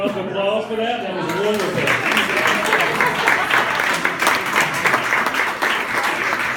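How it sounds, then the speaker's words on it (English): Wedding guests break into sustained applause after a brief voice at the start, the dense clapping holding steady and loud for several seconds. "Can we get another round of applause for that?"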